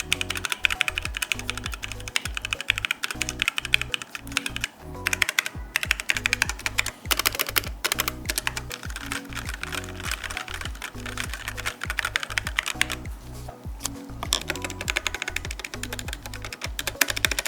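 Rapid, continuous clacking keystrokes on a HyperX Alloy Origins 60 compact mechanical keyboard, close and crisp, with dense bursts and brief pauses throughout and no voices.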